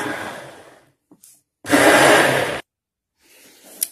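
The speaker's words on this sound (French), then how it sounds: "l'avantage d'avoir un mixeur avec le pied en métal, c'est que là, on va pouvoir mixer le mélange tant qu'il est encore chaud" A hand blender with a metal foot whirs loudly through hot strawberry coulis in one steady burst of about a second, framed by quieter motor noise and short pauses.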